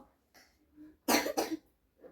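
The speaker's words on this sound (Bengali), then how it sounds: "খক খক কাশি বন্ধ কর।" A few short, loud coughs in a quick pair near the middle, preceded and followed by faint throat sounds in an otherwise quiet room.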